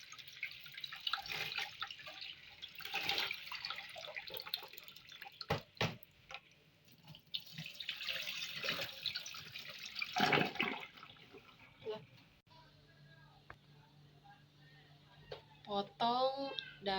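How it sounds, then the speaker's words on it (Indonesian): Meat and prepared ingredients rinsed under running water in a sink, with splashing and dripping that come and go in uneven surges, fairly close, and a person talking quietly at times. "Dagingnya juga dicuci hingga bersih."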